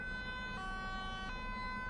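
An ambulance in Euro Truck Simulator 2 sounds its two-tone siren, alternating pitches in an even rhythm over a constant low road and engine drone.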